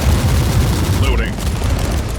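Gun turret in Warhammer 40k: Inquisitor-Martyr firing rapid, dense bursts that run continuously and loud in the foreground, with a brief voice mixed in.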